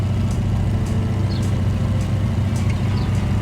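A BF 108 Taifun aircraft engine runs steadily with a constant low drone and hum as power increases for taxi, loud and continuous with no voices.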